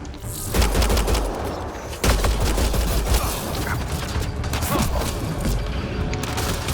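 Dense, continuous gunfire from the shooter game Mass Effect Andromeda, loud and close, with overlapping shots and crashes filling the scene.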